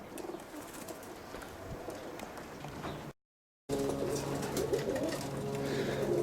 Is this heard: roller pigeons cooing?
yes